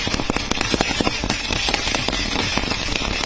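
Dense, rapid firecracker bursts crackle and pop continuously during a Diwali celebration at a Union minister's residence in Chennai, loud and close with overlapping sharp reports and no voices.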